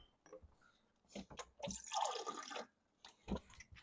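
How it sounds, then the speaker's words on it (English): Water is poured into a hot cast iron skillet holding a butternut squash, bacon and kale frittata, giving a quiet splash and a short hissing sizzle that rises and fades amid faint kitchen clatter. "let me pour in a little bit more water"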